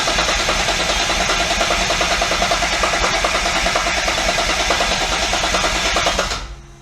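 Twin turbo Triton engine cranking and then running, a loud, steady, rapid mechanical drone with fast pulsing that fades out abruptly at the end.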